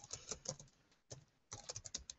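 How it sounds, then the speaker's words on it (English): Fingers type quickly on a computer keyboard at close range in soft, irregular bursts of key clicks with one short pause. "you see as I'm typing it in that it's filling it in for me"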